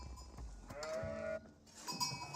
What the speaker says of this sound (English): Number of sheep over there.